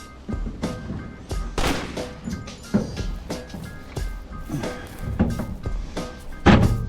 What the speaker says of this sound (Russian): Навешиваем дверь.